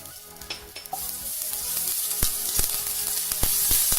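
Ginger paste sizzles in hot oil with whole cumin seeds in a pan, a steady close frying hiss broken by sharp spatula scrapes and stirring clinks.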